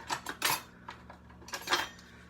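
A metal measuring spoon taken out and handled in a home kitchen while making caramel sauce, a quick series of bright clinks and rattles of cutlery against other utensils, close and clear with no talk.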